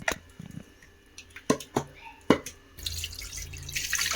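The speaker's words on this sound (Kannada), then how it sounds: "ಕುಕ್ಕರ್ ತೊಳ್ಕೊಳ್ಳೋಣ." Water splashes and drips from a running tap while a pressure cooker is rinsed at a sink, with scattered clinks early on and a steadier rush of water toward the end, close and moderately loud.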